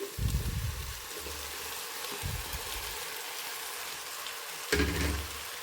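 Paneer, potato and peas frying in a pan give a steady hissing sizzle, broken by a few dull thumps and clatters as the pan is stirred.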